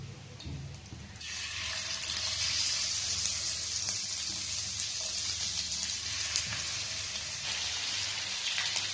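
Prawns in a kadai of ghee start sizzling after a brief moment, a dense, steady, close crackle that holds without pause.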